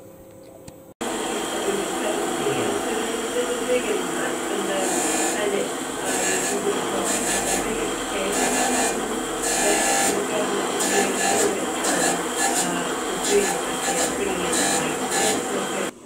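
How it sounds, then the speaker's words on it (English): A manually operated surface grinder runs in a small workshop, giving a steady, loud mechanical hum with a grinding hiss that swells and eases at regular intervals. "this is a manually operated surface grinder that I've had for decades"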